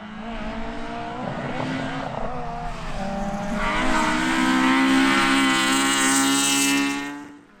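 Rally car at a sprint championship round, engine note climbing through the gears, then revving hard with a rising whine and tire noise, loud and close, fading at the end.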